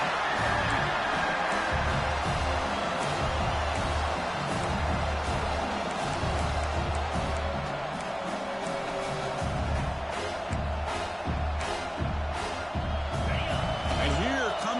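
A loud stadium crowd roars and cheers continuously in a college football video game during a red zone defensive stand, with thumping impacts and a commentator talking over the din.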